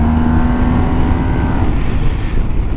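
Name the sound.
Yamaha TMAX 2022 scooter engine accelerating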